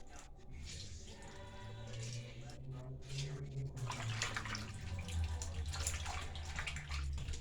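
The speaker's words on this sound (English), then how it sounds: "So I'm washing it with some lime and vinegar." Water runs and splashes steadily as snapper fish is washed with lime and vinegar at a sink, with handling and squishing noises mixed in under a low background hum.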